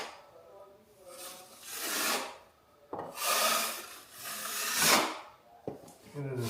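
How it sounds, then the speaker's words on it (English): A dried drywall patch is sanded by hand, giving long rasping strokes in three or four sweeps with brief pauses between, close and moderately loud with no talking. "And then you sand it down."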